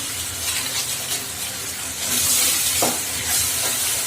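Spices with biryani masala being stirred and fried in a pan, giving a steady close sizzle and hiss that swells louder partway through, with occasional scraping stirs and no talking.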